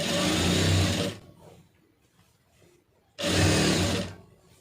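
Sewing machine stitching the lining of a blouse, running in two loud, steady bursts separated by a quiet pause, with no talking.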